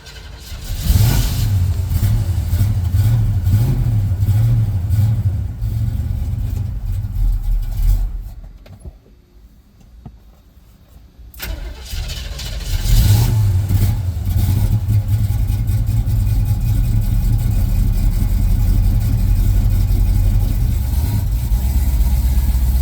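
The engine of a 1975 El Camino with a junk carburetor runs loud and close, with a rough rumbling idle and revving, dies briefly to near quiet, then restarts and keeps running steadily.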